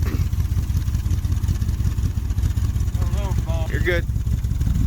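Vintage street machine engine rumbling loud and close at a raised idle to clear carbon, a steady throbbing low drone with a short voice remark over it near the end.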